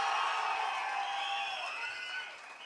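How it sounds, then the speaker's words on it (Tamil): A large crowd at a Tamil political rally cheers and applauds, a dense, steady roar of clapping and voices that stays loud throughout before easing slightly at the end. "ஒரு பெரிய கைத்தட்டல் தர்றோம்"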